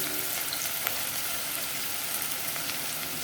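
Onion and curry leaves fry in oil over medium heat, a steady close crackling sizzle with no voices.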